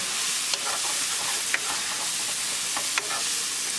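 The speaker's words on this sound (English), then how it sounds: "Mix it well." Tomatoes and ground spices sizzle steadily in a hot pan for black urad dal tadka, a close, continuous frying hiss broken by a few soft scrapes as a spoon stirs the mixture.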